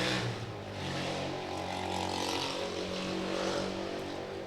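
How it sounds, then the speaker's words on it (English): A loud motorcycle engine rumbles steadily outside, heard indoors as a continuous low drone with rising revs, no speech over it. "Motorcycles are the bane of my existence. There's no reason why anyone should have a vehicle that loud."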